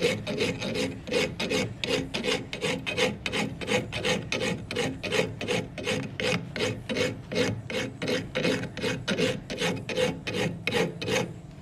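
Coarse round file worked by hand on metal, with rapid, even back-and-forth rasping strokes close up in a continuous rhythm and no talk.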